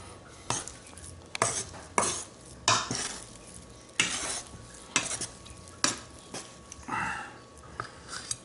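Ciabatta bread dough being mixed in a bowl: a series of about a dozen scraping, slapping strokes that come roughly every half-second to second, close and moderately loud, with no speech.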